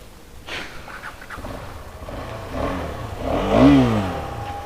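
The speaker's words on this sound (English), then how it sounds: "Exhaust sound is actually good." A KTM 250 Adventure motorcycle idles and then revs up, the exhaust note rising to a louder, throaty roar toward the end.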